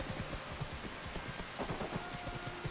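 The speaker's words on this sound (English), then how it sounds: "Apparently it's going to rain for a couple days." Steady rain pours down in Skyrim, pattering densely on surfaces with scattered heavier drops, soft and continuous throughout.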